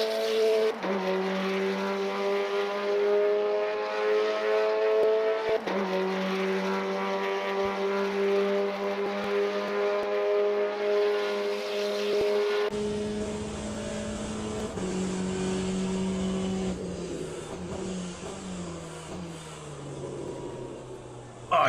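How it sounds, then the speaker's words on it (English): Race car engines in the game Le Mans Ultimate, played in VR, roar continuously from an outside view, steady harmonic whine shifting pitch as the car passes, with a harsher, noisier stretch toward the end. "let me switch up and let you hear this car from the outside"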